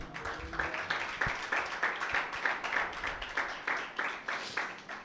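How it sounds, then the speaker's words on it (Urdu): A church congregation clapping for Jesus during a Sunday meeting, steady rhythmic group claps in a regular beat, fairly close and filling the room. "یسوع کے لیے تالیاں بجائیں"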